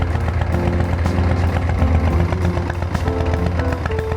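A Harley-Davidson Shovelhead V-twin idles steadily and loudly close by, a continuous low engine rumble with no talk over it.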